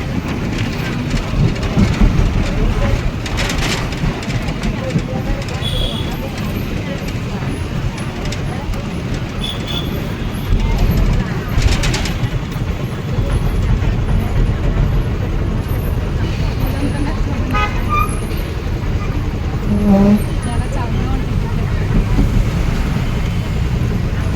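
Inside a moving bus pulling into the Kovvur bus stand, with a continuous rumbling engine and road noise, rattles, a few hissing air-brake bursts and occasional faint voices in the background.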